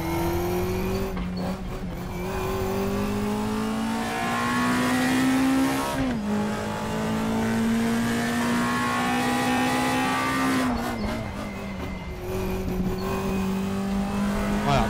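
Race car engine in a racing simulator game, a steady loud drone that climbs and drops with gear changes and throttle lifts around six and eleven seconds, continuous throughout with no voices.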